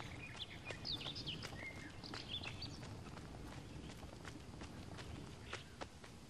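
Horse running in the video game Unravel, a steady rhythm of clip-clop hoofbeats under a continuous rumbling bed, with faint bird chirps scattered above.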